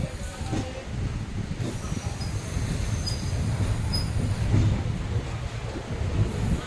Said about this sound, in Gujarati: વઢવાણથી ટ્રેન ઉપડી ગઈ છે